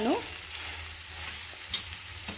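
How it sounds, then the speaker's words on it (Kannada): Mashed potato stirred into softened onions in a pan for masala aloo bonda, a short close burst of soft sizzling with a squeaky spoon scrape at the start and a couple of light clinks. "ಈ ಟೈಮಲ್ಲಿ ನಾವಿಲ್ಲಿ ಮ್ಯಾಶ್ ಮಾಡಿ ಇಟ್ಕೊಂಡಿದ್ವಲ್ಲ ಆಲೂಗಡ್ಡೆನ ಇದಕ್ಕೆ ಸೇರಿಸ್ಕೊಳ್ಳೋಣ ಸೇರಿಸ್ಕೊಂಡು ಚೆನ್ನಾಗಿ ಮಿಕ್ಸ್ ಮಾಡ್ಕೊಳ್ಳೋಣ"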